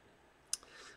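A single sharp mouse click, faint and close, followed by a softer second tick and quiet room noise, as a card is saved in Microsoft Teams.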